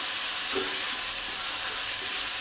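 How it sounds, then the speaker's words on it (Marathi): Ginger, garlic and green chili paste sautéing in a pan for a Marathi bitter gourd (kartoli) vegetable dish, giving a steady soft sizzle and hiss throughout, with a brief stir near the start. "मी ते टाकून इथे परतून घेतलंय"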